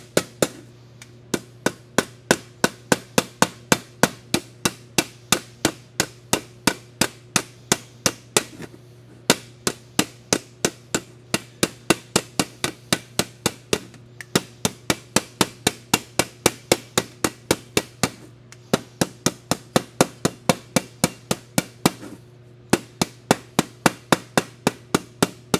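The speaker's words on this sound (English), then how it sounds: "Notice the angle of the strike on the hammer" Repeated sharp hammer blows on sheet metal while forming a 6-inch to 4-inch transition, a steady rapid rhythm of ringing metallic strikes with brief pauses, close and loud.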